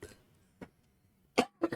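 A man coughing after smoking a joint, several close, harsh coughs in short bursts with brief gaps between, the last ones coming as a quick double.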